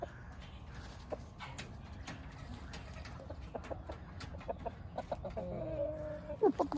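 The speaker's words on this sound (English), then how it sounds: "Look at my Brahma chickens." Large Brahma chickens cluck and call at a farm, their sounds steady and moderately close, with a few sharper squawks near the end over low background noise.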